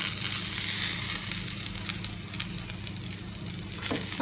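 Onions and spices sautéing in a pan for a Kerala tapioca (kappa) masala, with curry leaves added: a steady, close sizzle and frying hiss throughout, with faint stirring scrapes and no talk.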